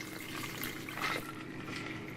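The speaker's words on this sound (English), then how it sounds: "you're going to go ahead and add your ice cold water" Ice cold water is poured onto freshly made homemade butter in a bowl, a faint, soft trickle and splash heard up close with no talking.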